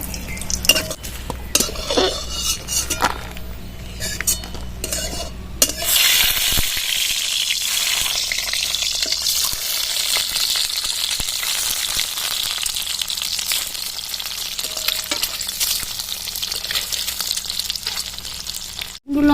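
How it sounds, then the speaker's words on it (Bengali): Dried red chillies fry in a little mustard oil with close, busy stirring and scraping. A sharp burst of sizzle after the first few seconds settles into a steady frying hiss, with no talk. "সামান্য একটু সর্ষে তেল দিয়ে দেবো শুকনো লঙ্কাগুলো ভেজে নেবো"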